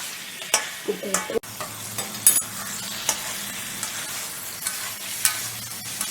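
Slow-cooked mutton kosha sizzling in a pan while being stirred, a constant close frying hiss punctuated by repeated clinks and scrapes of the spoon against the metal.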